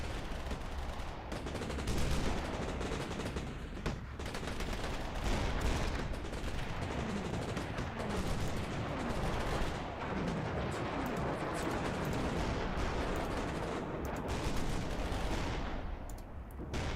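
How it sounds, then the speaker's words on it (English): Heavy WWII combat from Battlefield Commander with an assault gun firing shells, dense overlapping gunfire and blasts rumbling continuously and loudly throughout with no pauses. "Go on, assault gun. Fire shell at sniper."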